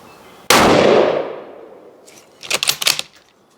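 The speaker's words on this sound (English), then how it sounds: "there is a distinct difference in the muzzle report. It is a lot less harsh." Two suppressed rifle shots: one sharp, loud muzzle report that rings out and decays slowly, then a quieter cluster of rapid cracks with an echoing tail, heard from behind the suppressed rifle during a point-of-impact shift test.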